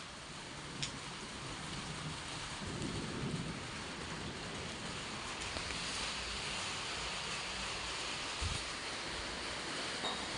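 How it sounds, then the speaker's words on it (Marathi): Rain falls steadily outside a house, a continuous broadband hiss that stays even and moderately loud for the whole stretch, with a few brief knocks and a faint low rumble in the background. "बघा तर बाहेर पाऊस येतोय"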